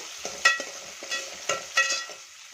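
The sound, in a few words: finely chopped onion frying in a pan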